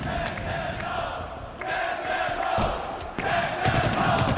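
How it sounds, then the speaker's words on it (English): A live arena crowd roars and cheers at the Halo Championship Series Kansas City Major grand final between Sentinels and Cloud9. The sustained, swelling noise builds in waves, and a caster's commentary runs over it. "The crowd can feel it here in KC."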